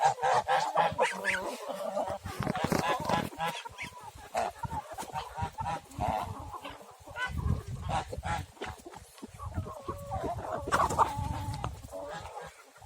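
Village geese honk repeatedly in a noisy, overlapping chorus close by, mixed with clucking from chickens and roosters in a farmyard, calls rising and falling throughout.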